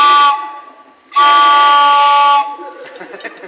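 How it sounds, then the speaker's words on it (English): A whistle sound effect in a Christmas radio play, giving two loud sustained tonal whistle blasts, the second one longer, followed by a softer fading tail. "to his team gave a whistle"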